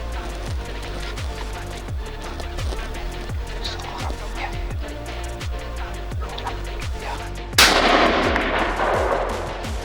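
A single loud rifle shot at a whitetail buck during an Alberta hunt, a sharp close blast that cuts through a steady rhythmic mechanical rumble and fades into a rolling echo.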